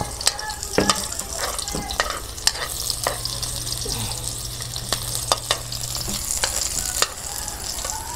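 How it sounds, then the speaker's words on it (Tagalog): Onions frying in oil in a kawali pan, a steady close sizzle with occasional sharp crackles and pops throughout, no talk over it. "Lagay pa tayo ng oil sa ating kawali. Ayan. Lagay na natin ating sibuyas."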